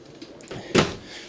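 A kitchen drawer in a 2026 Coachmen Northern Spirit Bijou 18RBB travel trailer pulled open, a brief sliding rumble ending in a single sharp knock as it reaches full extension, close and with no talk.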